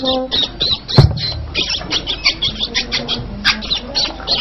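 A small caged bird sings in a string of short, repeated chirps and squawks at a lively, uneven rhythm, close and fairly loud, with one sharp knock early on.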